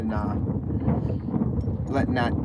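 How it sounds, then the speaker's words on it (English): Wind gusts across open water on a musky fishing outing, a steady low rumbling buffet on the microphone that persists throughout, with a voice briefly heard near the end. "It's windy out here too"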